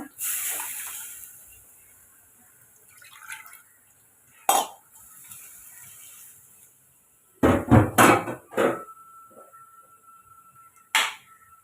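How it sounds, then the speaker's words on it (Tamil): Water splashes and pours into a pressure cooker of cabbage sambar in a few quick gushes, with clinks and scattered kitchen noises around quieter stretches. "இப்போ சாம்பாருக்கு தேவையான தண்ணி சேர்த்துக்கோங்க"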